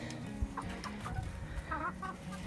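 Several chickens cluck near a coop on an allotment, with short, uneven calls scattered over a steady outdoor background.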